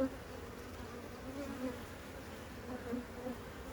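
Honey bees buzzing around an opened beehive during an inspection, a dense, continuous, close hum of many bees with slight swells in loudness and no talk.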